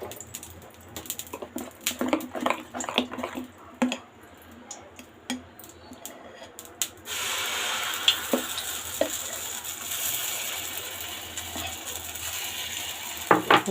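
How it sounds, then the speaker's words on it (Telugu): Pesarattu batter hitting a hot pan: after several seconds of scattered clicks and taps, a steady loud sizzle starts midway and continues with occasional scraping, close by and free of speech. "ఇప్పుడు పెసరట్టు వేసుకుందాము."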